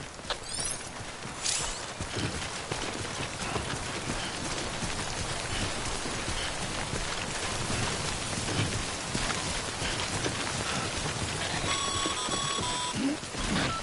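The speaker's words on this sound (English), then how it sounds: "Don't stay out in the rain any longer than you have to." Timefall rain in the video game Death Stranding: a steady, dense hiss of rainfall that runs throughout at an even level, with no talk over it.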